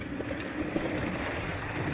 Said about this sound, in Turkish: Ama bayağı rüzgarlı bugün